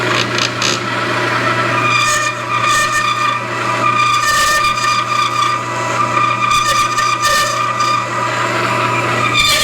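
Hand sawing through a metal plate in a machine shop, a steady rasping stroke repeating throughout at close range, over a constant low machine hum.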